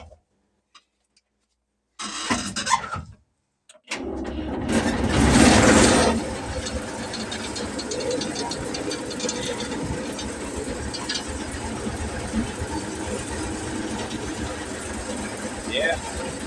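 A Fahr M66 combine's engine cranks briefly and cuts out after near silence, then starts again, surges loudly and settles into a steady running chug as it moves toward a barn, with a voice talking over it.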